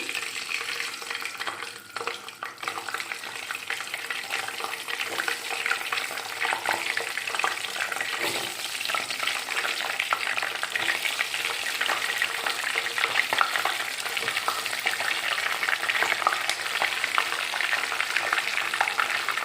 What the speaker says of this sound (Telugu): ఆయిల్ వేడెక్కింది పసుపు వేద్దాము ఎగ్గలు వేసేద్దాం